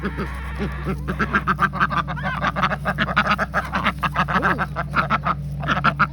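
Several ducks quack in a steady, busy chorus up close while eating scratch grains, the calls loud and overlapping, with a brief exclamation from a person.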